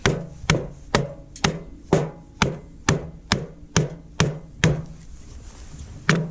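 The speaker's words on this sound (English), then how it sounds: "we're just going to take a hammer and knock these pieces out" A hammer knocks cut wooden pieces out of a board for a mailbox build. Roughly a dozen sharp, close thwacks land in a fairly steady rhythm, each ringing briefly, with no talking.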